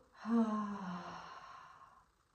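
A slow, soft exhale during a breathing exercise, breathed out gently with the tongue held against the roof of the mouth; a single breathy, slightly voiced sigh that swells quickly, then fades over about two seconds, close and quiet.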